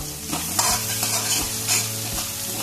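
Tinda pieces fry in hot oil for a Rajasthani mixed vegetable dish, giving a dense, close sizzle with repeated scraping stirs in a steady rhythm throughout.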